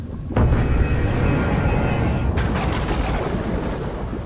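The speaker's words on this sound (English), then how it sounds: "thunder." A loud, sudden crack of thunder breaks out and then rolls on as a sustained, heavy rumble, close and dominant with no voices over it.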